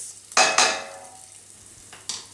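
Spatchcocked grouse fries in a pan over high heat, with two loud pan knocks and scrapes, then a spitting sizzle that fades before another burst of clatter near the end.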